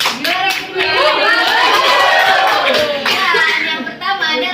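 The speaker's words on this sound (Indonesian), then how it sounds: "Tepuk tangan untuk semuanya." A crowd of students and teachers applauds the winners at a school event. The clapping is loud and dense, and excited voices and chatter carry over it.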